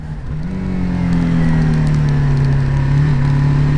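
A BMW G310 R single-cylinder motorcycle accelerates on a rainy test ride, its engine note rising and then holding a steady, loud drone close to the rider.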